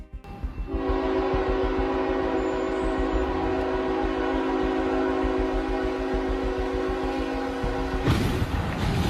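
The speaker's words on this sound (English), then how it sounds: "The truck sits helpless on the rails while the train's horn grows louder and more frantic." A train horn blares long and steady as a train closes in on a semi-truck stranded across live tracks near Atlanta, loud and sustained over rumbling rail noise, ending in a sudden burst of broadband crash-like roar.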